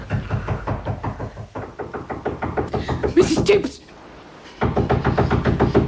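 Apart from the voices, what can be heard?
knocking on a bedroom door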